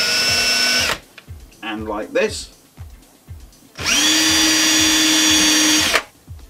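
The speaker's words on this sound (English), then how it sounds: "Now taking a drill, I put a pilot hole where I've just marked those two points" A power drill whirs in two bursts while drilling a 5mm pilot hole for a drawer runner soft-close fitting, a short one then a longer steady spin, with a voice speaking briefly between them.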